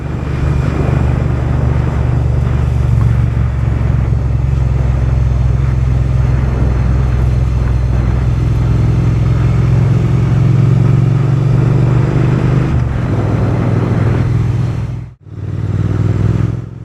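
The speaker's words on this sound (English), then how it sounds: "It's the Triumph Bonneville." Triumph Bonneville motorcycle engine running with a deep steady rumble that swells slightly, loud and close, ending in a quick drop and a final rev.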